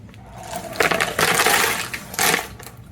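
Rocks and runny grit slurry tip out of a rock tumbler barrel in a few loud clattering, rattling surges, wet stones grinding and tumbling against each other close by.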